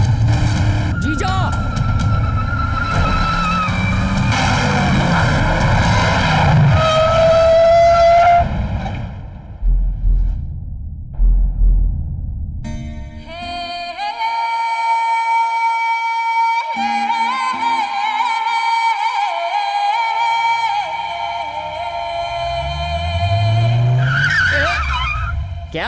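A car engine revs and its tires screech in a long skid, loud and close, with voices and a high whistling tone over the noise and a dramatic film score swelling in the second half.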